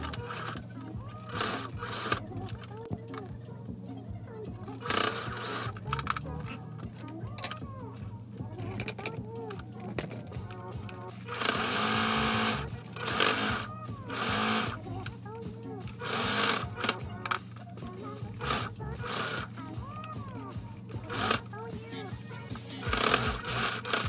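Sewing machine stitching a fabric mask in a home setting, its rapid mechanical chatter running in repeated bursts with short pauses, heard under close conversational speech throughout.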